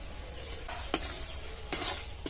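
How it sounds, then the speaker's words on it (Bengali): Semolina and flour being stirred with milk and sugar in a pot to form a dough, a soft continuous scraping with two sharper spoon knocks against the pan, quiet and close. "সুজি আর ময়দাটা এইভাবে নাড়তে নাড়তে একটা ডো বানিয়ে নেব"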